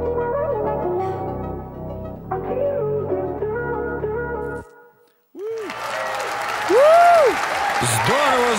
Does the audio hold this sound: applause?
yes